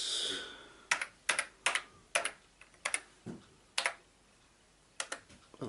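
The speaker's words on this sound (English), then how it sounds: "Well, the keyboard seems to be working fine anyway." Keys clacking on an Atari 520 STE keyboard, heard as about a dozen sharp, close keystrokes in irregular bursts with short pauses between them. No voices are present.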